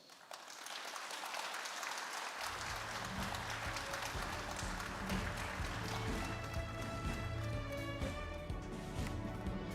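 A lecture audience at a literature association's opening ceremony breaks into sustained applause, many hands clapping continuously. Low musical tones join the applause after a couple of seconds.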